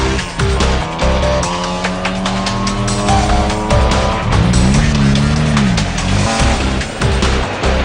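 A rally car races in the Gauteng 250, its engine loud and close, revving through rising and falling gear pitches with some tire noise, continuous and alone.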